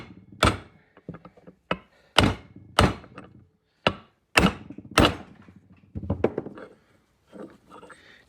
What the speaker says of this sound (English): I'm actually hitting so that this socket is staying on the race